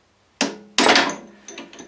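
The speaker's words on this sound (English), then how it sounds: "So we just have to put in a wedge-shaped bit of metal and give it a tap with a hammer" A hammer taps a wedge-shaped piece of metal to free a drill bit: two sharp, close metallic strikes, then a softer third tap that rings out briefly.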